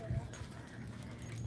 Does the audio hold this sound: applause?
no